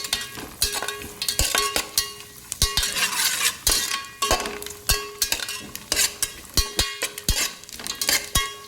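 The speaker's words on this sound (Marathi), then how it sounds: "त्याने आपले ड्रायफ्रूट एकदम खरपूस भाजले जातात" Dry fruits and charoli seeds roasting in a pan for besan ladoo, with a spoon stirring and scraping in repeated clanks over a steady close sizzle.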